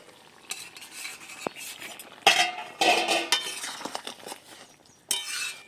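Pointed gourd and prawn curry cooked with garlic and cumin paste is stirred in a pan after the lid comes off, with scraping and clinking utensil strokes over a bubbling sizzle, in bursts with short pauses.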